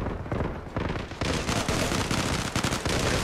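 Rapid automatic rifle fire from an M4A1 in the Zula online shooter game, loud dense bursts of shots rattling continuously with brief gaps between volleys.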